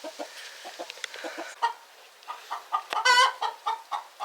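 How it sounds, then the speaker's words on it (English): A hen clucks from a nesting box, a run of short, close clucks with a louder, rising squawk partway through, alone with no talking. "there's actually a chicken in a nesting box right now, so we don't know if she's laying an egg"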